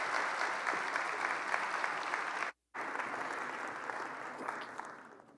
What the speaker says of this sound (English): please join me in giving Jimmy McMillan a warm round of applause